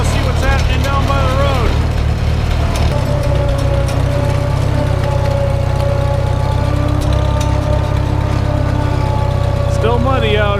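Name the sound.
Farmall H tractor running with rear end gear whine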